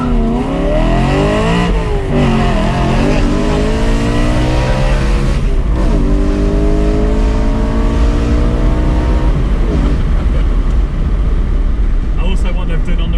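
A loud decatted BMW M3 engine revs hard through rising gears, the roar climbing and dropping at each shift, close and continuous.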